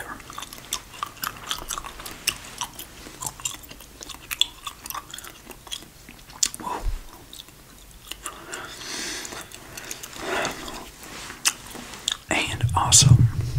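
Soft gum chewing with wet, clicky mouth sounds runs close and intimate under quiet whispering throughout, growing louder near the end.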